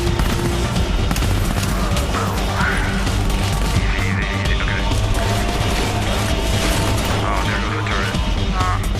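Gunfire in Tom Clancy's The Division E3 2014 gameplay trailer, dense loud bursts and crashes of battle noise continuing without a break under intermittent voices.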